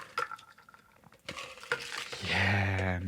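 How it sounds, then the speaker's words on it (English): Ice cubes drop into a topped-up cocktail glass, making a few sharp clinks and rattles close by, followed by a steadier ringing tone. "I'm just going to top up with the rest of this ice in here."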